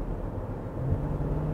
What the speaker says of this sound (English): And the V8 just sounds so nice.